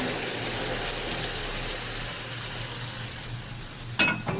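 Garlic taqliya sizzling loudly in hot fat for molokhia, a dense steady hiss that fades slightly before a sharp burst near the end as the molokhia is poured in.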